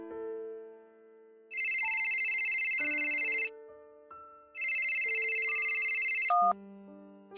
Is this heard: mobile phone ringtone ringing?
yes